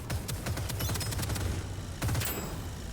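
A spinning rotary gun fires in the deep-space roguelite shooter Deadzone: Rogue, rattling out a rapid stream of close, sharp shots that pause briefly mid-way before another burst.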